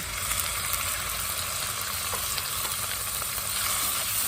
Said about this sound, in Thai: พอกระเทียม หอม ได้ที่แล้วนะคะ ใส่หมูลงไปผัดค่ะ